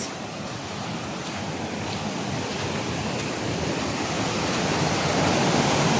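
Powerful rushing water roars through a forest in a dense, continuous wash of noise, growing slightly louder throughout, with no voices.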